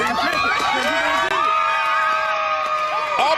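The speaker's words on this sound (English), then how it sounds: "Oh my God, the women are cheering?" A crowd of women cheering and whooping with high, overlapping shouts, loud and continuous for a few seconds, with voices rising and falling close by.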